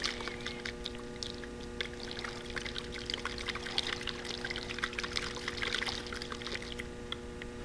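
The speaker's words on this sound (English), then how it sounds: "you place the nozzle on the bottle and simply give it a good shake" Water sloshing and splashing as a plastic bottle is shaken, a quiet close stream of irregular liquid sloshes over a faint steady hum.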